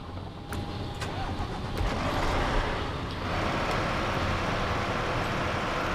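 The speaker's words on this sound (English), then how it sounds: "The engine still sounds so growly to me." In the SnowRunner video game, a Hummer H2 engine gives a loud, steady growl that swells slightly as it revs, with no speech.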